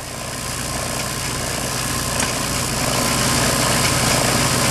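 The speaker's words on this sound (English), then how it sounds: "By holding it in the lathe" A lathe runs steadily while glass parts are warmed and joined in making a spherical audion vacuum tube, giving a continuous mechanical hum with a whine that builds slightly, close and alone with no talk.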